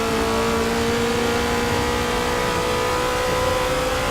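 Race car engine in Forza 6 accelerating on track, a steady loud high-pitched drone holding a constant tone throughout, close and dominant with no talking.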